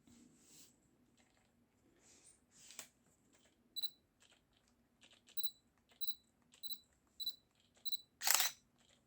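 Autofocus noise from a camera lens mounted on a 7artisans EF to Sony E adapter, faint close whirs and ticks in a quick series of short bursts against near silence.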